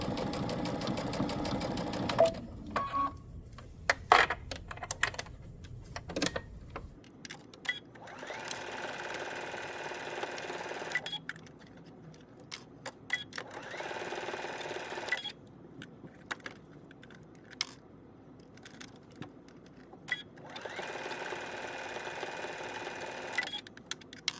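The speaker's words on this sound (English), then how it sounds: "we're going to trim it close to the stitching and give it a finish with the serger" A serger finishing a sewn sleeve seam runs in several short bursts, each a steady high-speed mechanical whir separated by quiet pauses, close and fairly soft.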